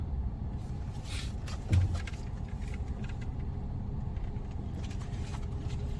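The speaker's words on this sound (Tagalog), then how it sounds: "Ay, daming truck." Steady low rumble of heavy road traffic with many trucks on a rural road in Bataan, engines droning continuously with a brief louder thump partway through, no talk.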